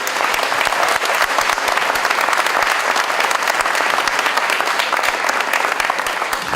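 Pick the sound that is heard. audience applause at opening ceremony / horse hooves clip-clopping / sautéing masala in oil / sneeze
audience applause at opening ceremony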